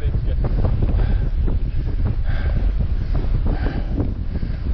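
Strong wind gusts steadily across an exposed hillside on the Haslisberg, buffeting the microphone with a constant low roar throughout, with occasional faint voices beneath.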